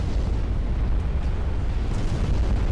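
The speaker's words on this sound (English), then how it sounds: "Gets a fucking ammo detonation." Ammunition detonation aboard a warship in the naval strategy game Ultimate Admiral Dreadnoughts, a loud sustained rumbling roar of explosions filling the whole stretch without pause, no talking.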